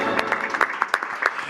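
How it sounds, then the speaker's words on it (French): Brief, sparse clapping from a small live-show audience, with a handful of distinct separate claps over about a second and a half, close and moderately loud. "Et on applaudit Fred."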